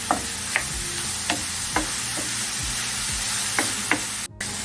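Mixed vegetables sizzle and fry in a pot while being stirred, a steady close crackle punctuated by regular knocks of the spoon against the pot.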